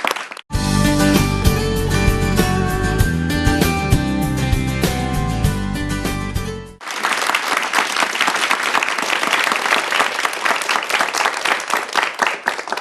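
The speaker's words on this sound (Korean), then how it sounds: "우리 예, 박수 한번 합니다." A church television audience claps loudly after a Christian sermon. A sustained, dense burst of many hands follows a stretch of music, close and full.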